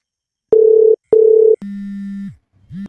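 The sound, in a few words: telephone dial tone while calling someone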